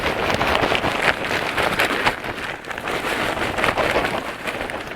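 Cotton burr compost sprinkled by hand over potting soil, a steady close rustling patter like light rain, continuous and alone throughout.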